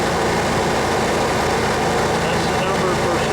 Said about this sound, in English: I'll go ahead and start the engine.